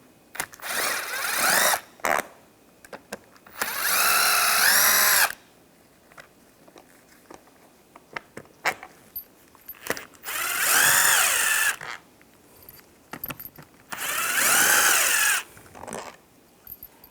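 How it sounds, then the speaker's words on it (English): Phillips screws come out of a seat side panel on a 2000-2006 Chevrolet Tahoe, driven by a powered driver: four whirring motor bursts, each rising in pitch, with faint clicks and handling noise between them, close up. "I'm just going to use a Phillips head screwdriver."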